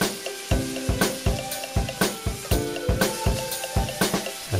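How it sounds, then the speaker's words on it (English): A fish fillet fries skin side down in a hot pan, giving a steady sizzle broken by a regular series of sharp, rhythmic knocks or taps, close and moderately loud, with no talking. "the fish in, skin side down, and let it crisp up for a couple minutes"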